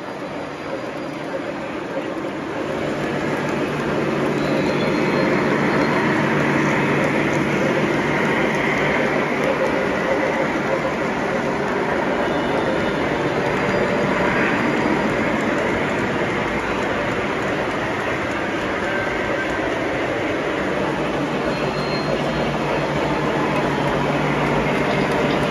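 Long model coal train rolling over a big bridge, a continuous broadband rattle and rumble of wheels that builds slightly and holds steady throughout, fairly close and without pause.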